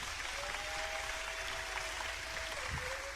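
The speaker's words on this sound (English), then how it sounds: "Round of applause" Comedy club audience applause, a steady wash of many hands at an even level with no talking over it.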